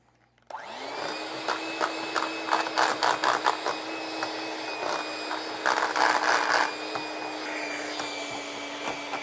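An electric mixer blends cake batter in a bowl, a steady, close motor whine that runs throughout, with repeated bursts of louder churning and rattling as the beaters work through the batter.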